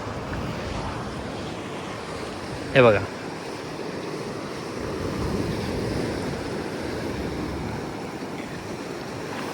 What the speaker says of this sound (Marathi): समुद्राच्या ज्या अजस्त्र ज्या लाटा येतात, गर्जना करत लाटा येतात, त्यांचा फक्त आवाज